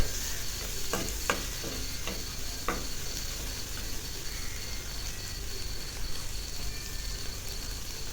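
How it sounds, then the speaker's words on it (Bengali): Onions sizzle in a pan with ginger and garlic, a steady close frying hiss. A few sharp stirring clatters come early, and no one speaks. "পেঁয়াজটা আগে ভাজিয়ে নিই।"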